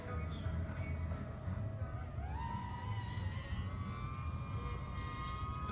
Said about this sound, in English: They have a drone flying there.